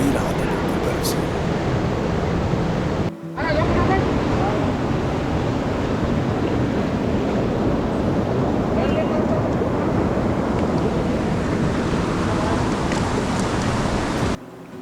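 Current of the Ganga river on the Gangotri to Gaumukh route, cold glacial water rushing in a loud, steady, broadband roar with wind buffeting the microphone, continuous apart from a brief dropout.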